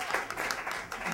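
An audience claps in a brief burst of scattered applause, moderately close, with a few distinct hand claps standing out from the patter.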